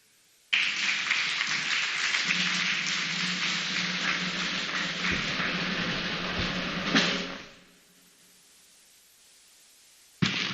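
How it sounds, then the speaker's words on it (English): Steady audience applause at a community food bank trust fund launch and board inauguration, loud and dense for about seven seconds before fading, then a brief burst again near the end. "we have that special applause from the First Lady"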